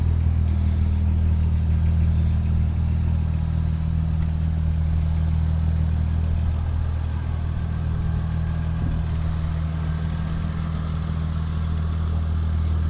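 A 2001 Audi B5 RS4 BiTurbo Avant drives on a test drive, its engine a steady, loud low drone with constant road rumble that holds evenly throughout, no voices.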